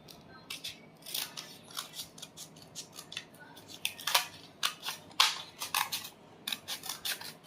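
Scissors snip off excess paper around a handmade craft flower, a quick run of crisp, close cuts in uneven bursts with brief pauses between them, heard alone without speech.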